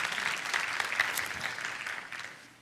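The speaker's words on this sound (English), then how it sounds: "So let's give a round of applause to our guards." Faint applause from an audience at a Christian school reveal event, a soft, distant patter of clapping that gradually fades away toward the end.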